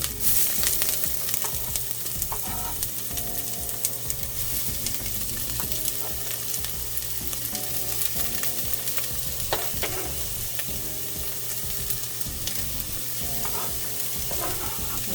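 Roughly chopped onions frying in avocado oil in a pan, a continuous close sizzle with occasional scraping and stirring clatter, and no voices.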